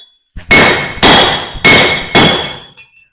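A blacksmith's hammer strikes an anvil four times in a steady rhythm, each loud ringing clang followed by a bounce, then a lighter final tap.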